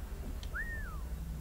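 A character in the video game Assassin's Creed III, during the Fort Southgate mission, whistles once: a short, faint, rising-then-falling tone heard alone over a low ambient hum.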